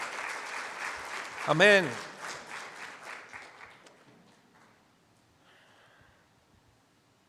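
A church congregation claps in a dense burst of applause that peaks and then fades out, with a voice calling out over it and quieter murmuring afterward.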